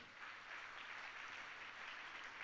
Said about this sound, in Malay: Satu tepukan buat mereka